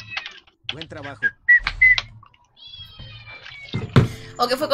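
A cat meows in a video game, short electronic mewing calls mixed with bright game sounds while someone talks over it in Spanish.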